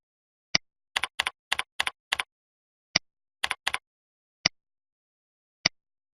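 Computer keyboard keys tapped in short clusters of double clicks and single isolated taps, crisp and close with silence between.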